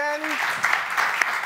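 Applause from an audience at a Curaçaoan folk theatre performance, a broad steady wash of clapping that follows a brief tone at the start, with a few sharper claps standing out.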